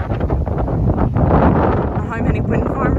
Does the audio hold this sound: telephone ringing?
no